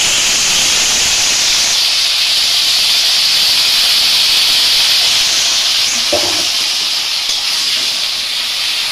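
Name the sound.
cauliflower frying with turmeric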